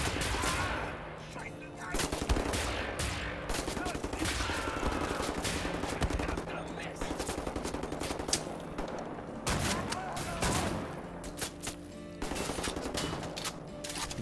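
Rapid automatic gunfire with shrapnel ammo in the video game Wolfenstein: The New Order, loud dense bursts of shots continuing almost without pause, with brief gaps between volleys.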